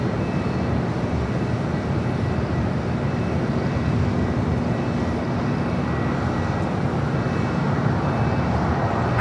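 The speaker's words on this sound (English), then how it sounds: "757 to 300 touching down here on the south side" A Boeing 757-300 airliner touches down at LAX, producing a steady, loud broadband roar of engines and rushing air that holds constant throughout with no voices.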